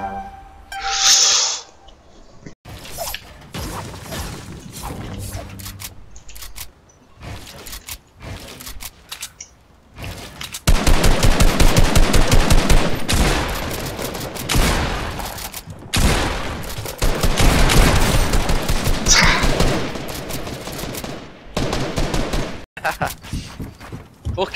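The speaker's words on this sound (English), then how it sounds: "SMG." Rapid SMG bursts from Fortnite crackle through the second half, loud and dense with short gaps, after a sparser opening of scattered shots and game clatter, with voices talking over parts of it.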